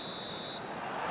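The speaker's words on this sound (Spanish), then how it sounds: "Suena el pitido final." Referee's final whistle in a PES 21 football video game, a steady high tone lasting about half a second over continuous crowd noise.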